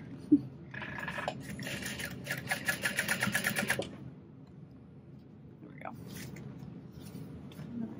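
A sewing machine stitches a backpack at a long stitch length, a close, fast, rhythmic whir lasting a few seconds, with speech and handling noises around it.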